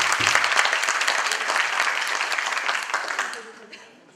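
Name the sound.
audience applauding the programme president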